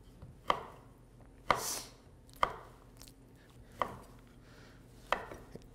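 A knife chops hard salami for pizza topping in five sharp, separate strikes on a cutting board, each with a brief ringing tail and quiet pauses in between, close and distinct, with no one talking.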